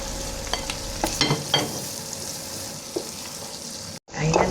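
Onion and garlic frying with pork in a pan, sizzling steadily up close while a utensil scrapes and stirs in a few distinct strokes, ending with a fresh loud sizzle burst.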